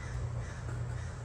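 Brief cawing from crows near a residential driveway, fairly faint and blended into steady outdoor background noise, no talking.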